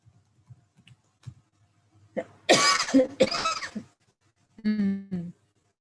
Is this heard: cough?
yes